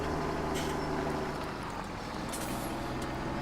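A white tractor's engine in the video game Farming Simulator 17 hums as a steady, loud, low diesel drone, with a faint shift in tone midway and no talking.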